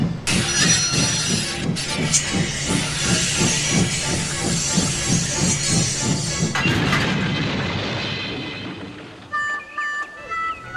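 Henry the steam engine in the Trainz video game chugs along in a loud, rhythmic beat with hissing steam, then crashes into coaches in a harsh burst before the sound dies away into quiet clatter.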